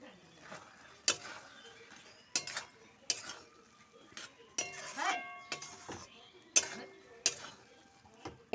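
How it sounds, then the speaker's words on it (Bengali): Spatula mixing banana flower with chana dal in a pan, with ghee and garam masala added: repeated sharp clinks and scrapes of the utensil against the metal pan at irregular intervals, close and moderately loud, with brief soft movement between strikes. "খুন্তিতে নিয়ে মিশিয়ে দেব"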